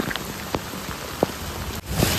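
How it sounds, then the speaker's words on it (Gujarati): Heavy monsoon rain pouring onto a street in Surat, a loud, close, unbroken wash of drumming drops with a few sharper splashes. "તમને આટલો વરસાદ દેખાડું"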